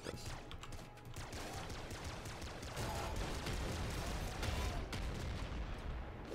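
Laser rifle firing in Nuclear Throne, a dense run of rapid zapping shots layered over busy game noise, loud and continuous with no voice over it.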